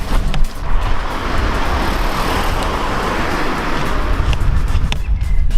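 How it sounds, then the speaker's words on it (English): A car rushes past nearby with a broad, loud roadway roar that swells and fades over several seconds, set against steady traffic noise. "Oh Jesus, there's a car!"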